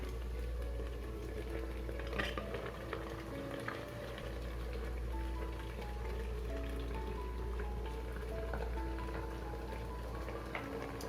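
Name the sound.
water boiling in an idli steamer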